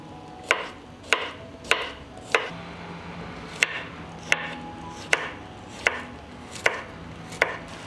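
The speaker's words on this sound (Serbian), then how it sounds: "iseckat ću 2 glavice belog luka" A knife chops two heads of garlic on a cutting board in a kitchen, giving about a dozen crisp, evenly spaced knocks at a steady, unhurried pace with quiet background hum between strikes.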